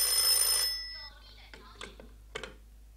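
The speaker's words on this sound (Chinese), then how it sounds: "哦，赵队长，你的电话。" A telephone rings loudly with a bright electronic tone for under a second, then fades, followed by a few short soft voice fragments in a quiet room.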